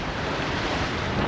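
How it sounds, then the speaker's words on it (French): Rough sea waves and gusting wind heard on board a sailboat running downwind, a steady loud broadband rush of surf and wind noise with no voices. "Voilà l'état de la mer."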